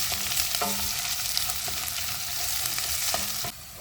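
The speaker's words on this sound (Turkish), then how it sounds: "Soğanlarımızın üzerine yarım yemek kaşığı biber salçası koyalım. Yarım yemek kaşığı da domates salçası. İkisini birlikte kavuralım." Onions frying with pepper paste and tomato paste, a continuous close crackling sizzle with intermittent scraping strokes of a spoon stirring the pan, cutting off abruptly at the end.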